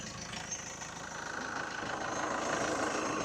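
A 2014 Toyota Hilux Vigo Champ with a 2.5-litre engine idles steadily, a continuous close rumble that holds an even, slightly rising level throughout, with no voices.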